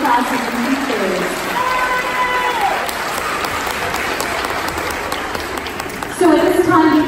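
A graduation audience gives kindergarten classes and their teachers a big round of applause, dense clapping throughout with voices and cheers mixed in, swelling louder near the end.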